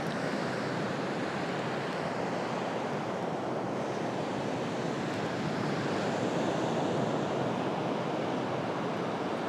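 Steady, heavy surf crashes continuously along a coastline, a dense roar of breaking waves with some wind rumble and no voices.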